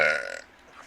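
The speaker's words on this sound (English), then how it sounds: "it was just a burp." A single short burp, loud and close at first and then fading quickly, with no talking.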